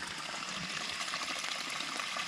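Spring water flowing out of a pipe into a pond, a steady close trickle and splash that never lets up and has no voices over it.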